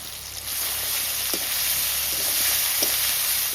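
Onion and tomato sizzle steadily in a pan as ginger-garlic paste is added, a continuous bright hiss broken by a few soft spoon clinks, with no one talking over it.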